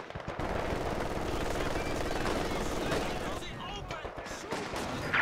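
Machine guns rattle in Company of Heroes 2, rapid sustained bursts over a dense din of combat with other shots and explosions mixed in. A voice talks intermittently over the fire.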